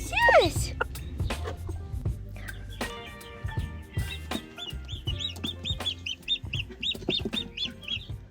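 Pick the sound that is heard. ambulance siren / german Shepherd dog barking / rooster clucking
rooster clucking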